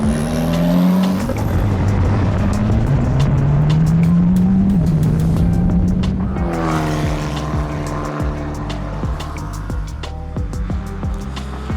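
Race car lapping a circuit during a test day, its engine loud and close as it screams through rising gear pulls, then drops and changes pitch with a brief tire squeal. The engine noise runs steadily the whole time.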